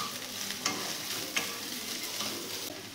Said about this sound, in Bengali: এই সয়াবিনটাকেও ভালো করে একটু ভেজে নেব।